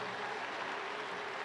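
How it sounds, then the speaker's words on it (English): Arena crowd applauding a gymnastics release move at the 2015 European Games, a steady dense wash of clapping throughout, moderately quiet and without talk. "Crowd appreciating it."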